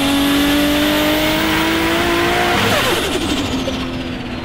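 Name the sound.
Nissan Skyline R32 GT-R 2.8L stroker single turbo engine revving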